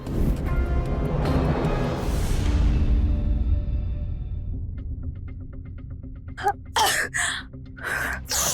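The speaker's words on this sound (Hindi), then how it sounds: "बहुत छींके मार रही हो।" A woman sneezing several times in quick succession, loud and close, following a fading ringing, droning background.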